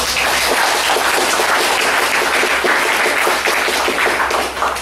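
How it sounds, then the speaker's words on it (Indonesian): Loud, dense audience applause at a PHP Indonesia meetup on women technopreneurs: many hands clapping continuously for several seconds, close and full, tapering slightly at the end. "Beri tepuk tangan dulu dong"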